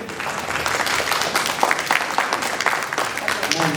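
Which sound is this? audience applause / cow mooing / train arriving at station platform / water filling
audience applause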